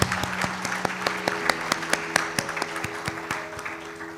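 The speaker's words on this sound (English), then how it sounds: "I think we need to give an applause to each one of you for yourselves." Audience applause at a women's gathering, dense overlapping claps filling the room, steady and fairly close, with a low tonal hum beneath and no voices over it.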